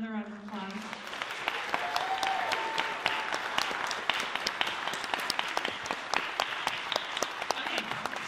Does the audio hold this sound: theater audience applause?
yes